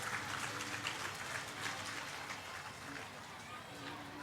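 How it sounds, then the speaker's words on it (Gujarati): Audience at a Bhagavat Katha religious discourse clapping in a steady, dense wash of applause that carries on evenly throughout, with crowd murmur underneath. "તાળી પાડજો."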